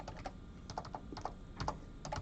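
Rapid keystrokes on a computer keyboard during a classroom coding lesson, irregular bursts of close clicking and tapping with short pauses between groups, no talking.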